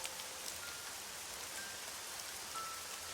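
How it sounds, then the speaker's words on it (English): Steady rain showers down in the visual novel game Summer Pockets, a soft even hiss of drops on surfaces that stays unbroken throughout, with no voices. "Oh, it's raining."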